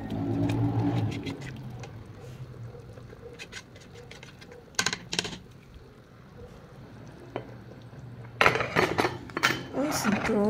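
Beef pieces for a Marrakech-style tangia are turned with spices in a cooking pot, giving scattered metallic scrapes and clinks over low background noise, with a sharp clatter near the middle and a busier run of knocks toward the end.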